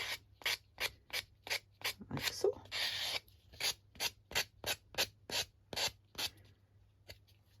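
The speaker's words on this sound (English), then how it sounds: "a nail file will help you get a nicer smooth edge round there" A nail file rubs along the edge of a sheet of patterned paper for a magnetic sticky note holder, making about fifteen short, even rasping strokes close up, with a brief burst of faster scraping in the middle and a few words spoken near the end.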